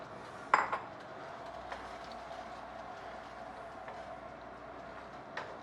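Peas and carrots are stirred into a shepherd's pie filling in a pan: a sharp utensil clink on the pan opens, followed by a few faint scrapes and taps over a quiet kitchen background.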